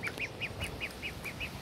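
A duck on a farm eats green grass in a pool and gives about eight evenly spaced, close quacks in quick rhythm.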